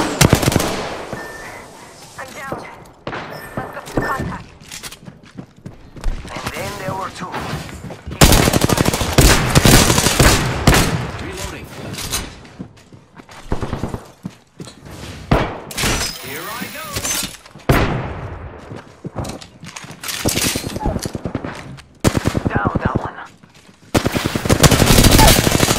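Video game gunfire comes in repeated bursts of rapid automatic shots, loud and close, broken by quieter gaps with people talking.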